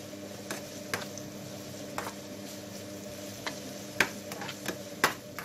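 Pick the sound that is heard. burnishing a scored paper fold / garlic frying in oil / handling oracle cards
garlic frying in oil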